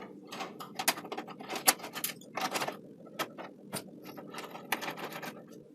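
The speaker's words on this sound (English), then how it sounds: "take a screwdriver and unscrew the screws that are securing it in place." A screwdriver working loose the screws that hold a graphics card in a PC case, giving quiet close ratcheting clicks and small metallic scrapes in a steady irregular patter.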